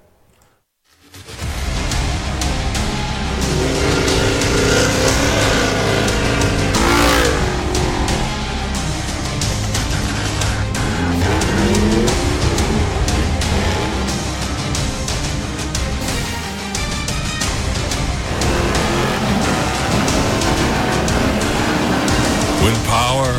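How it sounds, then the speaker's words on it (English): A car doing donuts blasts a continuous loud, revving exhaust roar with tire noise and crowd din mixed in, sustained and dense with little letup after a quiet start. "I think this might be you doing donuts. Yeah. Showing off some exhaust."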